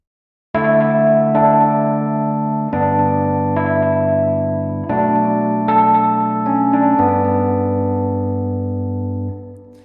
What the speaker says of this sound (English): So a really nice kind of vintage sound there with the spring reverb and delay combination